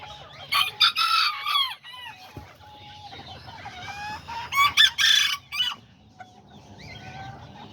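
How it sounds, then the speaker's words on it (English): Small Aztec and Serama chickens cluck and chatter in bright clusters while a little rooster crows shrilly twice, all close in a pen, with soft rustling in the pauses. "these are all the little chickens I have right now"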